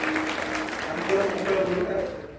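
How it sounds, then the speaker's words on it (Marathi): Audience clapping at a Marathi kirtan held at a Hanuman temple during a week-long festival, a steady dense patter that keeps going under a voice speaking over it. "एकदा प्रेमानं मनापासून टाळ्या वाजवा"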